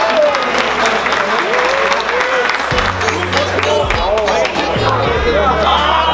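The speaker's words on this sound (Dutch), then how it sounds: "Applaus." Crowd applause at a football club's 75th anniversary opening party, steady dense clapping filling the whole stretch with a low hum and voices mixed in beneath.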